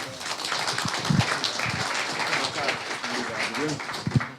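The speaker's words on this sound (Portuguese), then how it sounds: "Uma salva de palmas ao palestrante." An audience applauds a speaker at a talk on property law: a steady, diffuse wash of many hands clapping, with a few louder low thumps and some voices mixed in.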